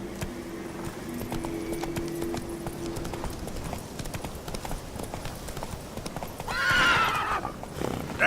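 Roach the horse gallops in The Witcher 3: Wild Hunt, rapid hoofbeats pounding steadily before a loud whinny near the end, all close and prominent.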